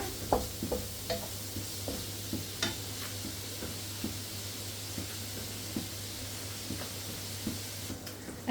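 Beef mince browning in a frying pan sizzles with a steady low hiss, broken by regular scraping stirs of a utensil against the pan, close and fairly quiet with no talking.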